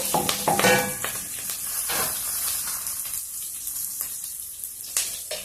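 Curry leaves and cumin seeds frying in a pan for capsicum jeera rice, hissing and sizzling steadily with a few sharper crackles and stirring scrapes near the start.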